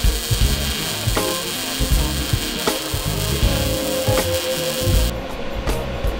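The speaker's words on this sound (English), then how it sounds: "we're gonna lay down a couple of practice welds just to make sure the welder's set up well" Practice welds laid down before working on a trailer: a continuous loud crackling, sizzling arc with irregular pops and snaps, close up, cutting off abruptly near the end with no talking.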